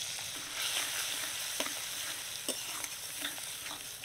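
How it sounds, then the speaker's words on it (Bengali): Spice paste of chopped tomato, turmeric, red chili powder and salt, loosened with a little water, fries in a pan with a close, continuous sizzle while a spoon scrapes and stirs in irregular strokes. "সামান্য একটু জল দিয়ে মশলাটা ভালো করে কষে নেব।"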